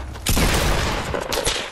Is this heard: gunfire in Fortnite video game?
yes